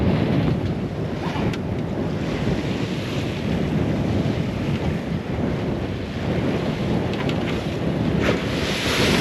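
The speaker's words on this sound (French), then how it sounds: "Il y a quand même encore des belles vagues." Ocean waves wash and surge continuously under strong gusting wind buffeting the microphone, a steady broadband roar with no voices.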